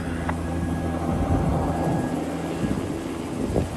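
A helicopter flies in with a long line to a heli-pad in cypress country, heard as a steady, moderately loud rotor and engine roar with wind rumble and no speech.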